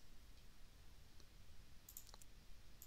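Computer mouse clicks while drawing in Revit, a few faint, sharp clicks near the end over a quiet hum, no talking.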